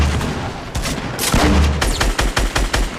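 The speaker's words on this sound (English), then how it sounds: "Why are my hunting rifle shots so laggy, chat?" Hunting rifle shots in Fortnite ring out as a rapid run of sharp gunfire cracks with a heavier boom in the middle, loud and close amid game noise.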